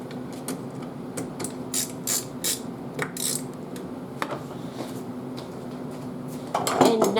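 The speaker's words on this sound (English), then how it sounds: "Alright, so let's put the cover back on," A belt sander's cover is fitted back on and threaded into place, producing close metallic clicks, scrapes and ratchet-like rattles in scattered bursts over a steady low hum, ending with a louder clatter.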